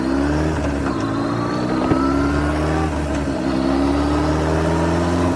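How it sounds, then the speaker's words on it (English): A motorcycle rides through floodwater, its engine droning steadily and loud with a shifting pitch and a constant wash of spray and water noise throughout. "I'm going to show you how to ride through a flood."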